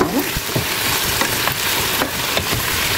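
Vegetables tipped into a hot pan for chicken afritada with tomato, then stirred, giving a steady loud frying sizzle with scraping and clattering stir strokes throughout.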